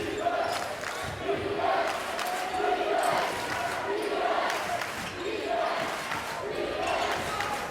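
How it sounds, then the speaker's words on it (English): A home crowd at a high school boys basketball game chants in a steady repeating rhythm, the chant rising and falling several times over a noisy gym with talk mixed in. "The home crowd chanting defense."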